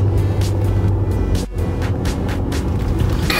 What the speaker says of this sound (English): We have our seatbelts on because Cassie's driving like a maniac to sling this thing off